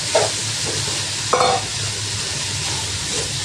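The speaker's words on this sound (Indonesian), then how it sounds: "ini tumis dulu sebentar ya" Cabbage, carrot and tofu filling stir-fried in a pan, giving a steady close hiss of frying with a couple of brief scraping clinks of a spatula.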